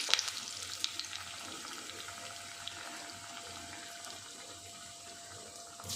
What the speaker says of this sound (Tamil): இப்போ எண்ணெய் நல்லா காஞ்சிருச்சு நம்ம வந்து மாவை லைட்டாக தண்ணியில் தொட்டுட்டு கையை இப்படி லேசாக உருட்டி உருட்டி அப்படியே போட்டுக்கிடுவோம்